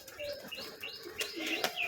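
Pigeons in a loft give soft coos and chirps, with a few sharp flutters or wing claps, fairly close and quiet with no talking.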